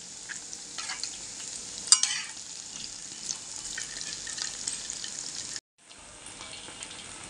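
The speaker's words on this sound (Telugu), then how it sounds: "ఇలా మెల్లిగా తిప్పుకుంటూ వేయించుకున్నాం" Potato cheese balls frying in hot oil while being turned slowly, a steady soft sizzle with occasional scraping stir noises and one sharper clink, then a brief cut to silence before the sizzle resumes.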